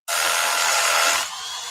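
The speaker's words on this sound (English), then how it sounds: "Man, that was easy. Bulldog Rotary Hammer!" Bosch Bulldog rotary hammer drilling into concrete, a loud continuous grinding roar that starts abruptly, then drops to a lower level after about a second.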